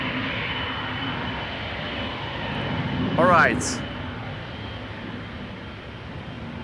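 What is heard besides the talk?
Boeing 777-200 jet airliner engines at Amsterdam airport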